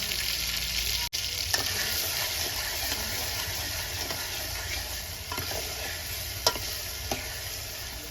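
Turmeric is sprinkled into a sizzling sev tameta mix in a pan, a constant frying hiss broken by a few scraping stirs and clinks, with no voices.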